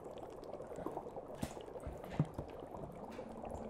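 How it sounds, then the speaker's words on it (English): Dry ice bubbles pop one by one against a pan, scattered soft bursts over a faint hissing, bubbling background. "So the bubbles are popping every time they hit the table, actually the pan."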